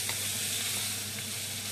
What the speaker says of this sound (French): là-dedans, on va mélanger le tout, un petit peu